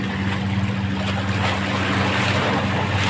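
A passing ferry boat on open water, a steady low engine drone beneath constant wind buffeting and wave wash.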